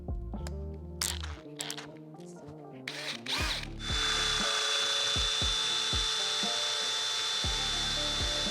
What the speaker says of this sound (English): So I'm gonna go ahead and sand it away.